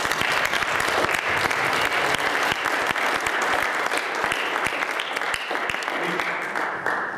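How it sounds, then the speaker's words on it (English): A panel discussion audience gives sustained applause: many hands clapping densely and steadily for several seconds, fairly close and loud. "Can we have a round of applause for the panel"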